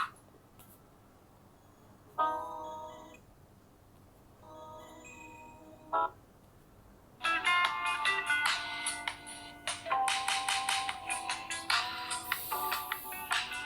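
A ringtone plays at maximum volume from the single speaker of a Samsung Galaxy M21, first as two short melodic bursts, then a longer bright, busy tune that continues steadily, with no talking.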